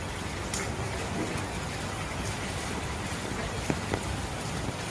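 Steady, dense rain falls on a resort garden among cottages in Cox's Bazar, a constant even hiss with a few louder drops near the end. No voices are heard.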